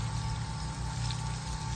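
Water from a garden hose poured over a pig, a steady, close rushing splash that runs unbroken and evenly loud throughout.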